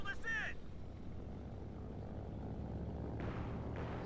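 A Stuka dive bomber attacks in the World War II strategy game Company of Heroes 2, heard as a faint, steady low propeller drone with brief clipped voice bursts at the start and near the end.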